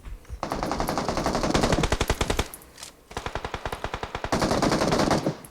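Automatic gunfire in the shooting game PUBG Mobile: loud, rapid bursts of rattling shots, three runs of steady rhythmic fire separated by short gaps.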